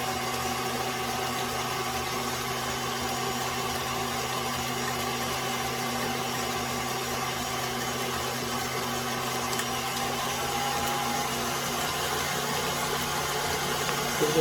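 A stand mixer kneads dough for rolls with a steady, close motor hum that runs unbroken throughout and rises slightly at the very end.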